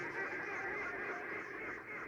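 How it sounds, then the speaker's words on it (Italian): Canada geese honk continuously as they pass overhead, a dense, steady chorus of overlapping calls with no talk. "Anatre canadesi,"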